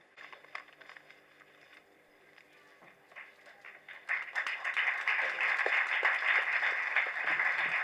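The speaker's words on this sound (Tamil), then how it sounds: "பலத்த கரகோஷங்களுடன்" Applause at the Prajapathi film trailer launch event, starting as scattered claps with faint crowd murmur, then swelling midway into dense, sustained clapping from a large audience.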